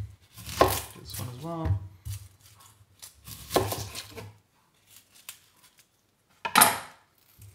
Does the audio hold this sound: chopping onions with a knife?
yes